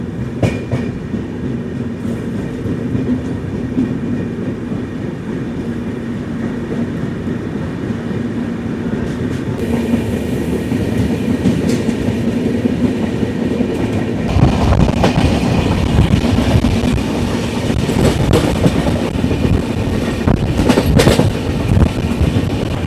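The Falaknuma Express runs on rails from Howrah toward Hyderabad, a steady close rumble of carriages with rhythmic clickety-clack from the wheels that grows louder and busier in the second half; no voices.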